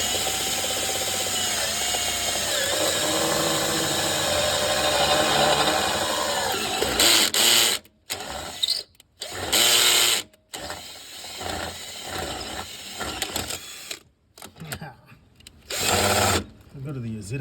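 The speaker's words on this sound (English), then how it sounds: "So I'm going to drill a hole right through and bolt it together." A power drill bores a hole through wood during custom engine and gearbox mount work on a Toyota Supra GA70 with a 1JZ swap, giving a loud whirring grind in long bursts broken by pauses, with talk in between.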